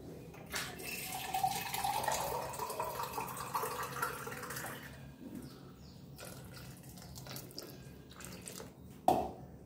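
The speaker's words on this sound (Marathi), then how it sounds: "आता याच्यामध्ये आपल्याला फक्त थंड पाणी टाकायचं" Cold water is poured and splashes softly into churned butter in a container for several seconds, then thins to faint trickles and a sharp clink near the end.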